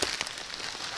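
Heavy rain pours down in a forest during a June mushroom hunt, a dense, close hiss of drops pattering on leaves and ground, steady and unbroken for about a second.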